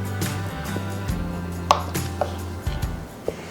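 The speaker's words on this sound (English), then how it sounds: "take 7 tablespoons of cold butter and cut them into slices, about like this" A knife cuts cold butter into slices for homemade biscuits, a few soft, close knocks on a board spaced irregularly, with faint background hum and no talk.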